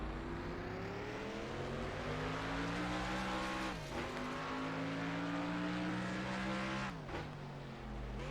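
Racing trucks in NASCAR Racing 2003 at Portland, a pack of engines roaring close together with rising and falling pitch as they shift, plus faint tire squeal, continuous and loud.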